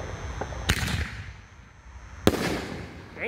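A Brocade canister firework shell from a Heavyweight Fireworks demo bursts with two sharp booms, each followed by a crackling, rumbling tail outdoors at moderate distance, with no voices.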